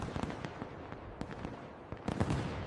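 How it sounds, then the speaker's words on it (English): Fireworks going off in a rapid, dense string of crackling pops and bangs, with a louder cluster near the end, heard at moderate distance with no voices. "By the 17th century, England celebrated with fireworks."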